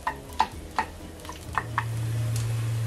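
Garlic cooking gently over low heat in a pan for Spanish garlic soup, a soft low sizzle with several light taps and scrapes of a utensil early on, settling into a quiet steady frying hum.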